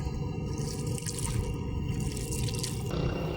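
A small boat is paddled through the sea at low tide, with steady broadband water wash and scattered drips running continuously at a moderate level with no voices.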